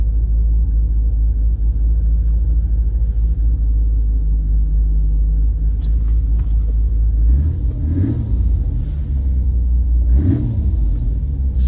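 A Nissan Skyline R34 GT-R V-spec with a 2.8-litre big single-turbo engine idles steadily, a deep constant rumble heard close, with a couple of brief swells near the end and no talking.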